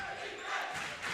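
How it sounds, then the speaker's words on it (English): A crowd roars and cheers steadily at a high school boys' basketball game, Hermon at Ellsworth, a loud sustained wall of voices filling the gym with no break. "Crowd just electric today."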